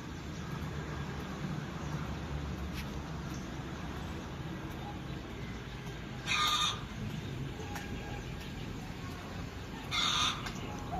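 Chickens cluck in two short, loud bursts a few seconds apart against a steady outdoor hiss, with faint scattered bird calls in between.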